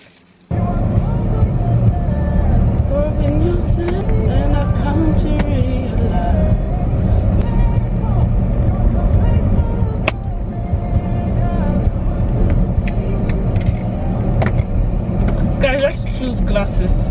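Road traffic heard from inside a car queued in a jam in Warri, a loud steady engine and road rumble running throughout with a voice talking over it.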